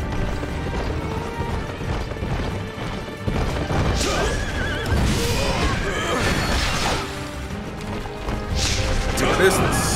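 A horse neighs loudly several times over clip-clopping hooves, with occasional thuds and crashes mixed in, in the video game Wo Long: Fallen Dynasty.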